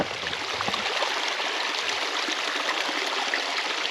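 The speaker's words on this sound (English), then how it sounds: "And this water is still coming through." Water streaming across a dirt road, a steady close rushing and gurgling flow with constant loudness throughout and no voices.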